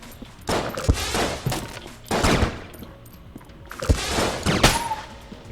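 Charge weapon firing in the video game Enter the Gungeon, loud bursts of rapid gunfire in three or four clustered volleys, close and dominant, with no speech over them.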